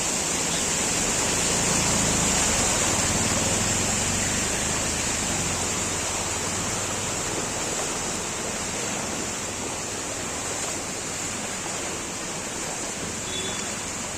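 Heavy monsoon rain and floodwater rush through a school in Raigad district as a dense, continuous roar that stays loud and even throughout, with no voices heard.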